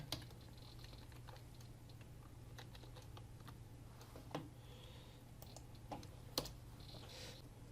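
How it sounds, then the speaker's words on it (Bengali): Faint, irregular key taps as a password is typed on a computer keyboard, with a few sharper clicks standing out over a quiet hum. "তো আমি পাসওয়ার্ড টাইপ করছি"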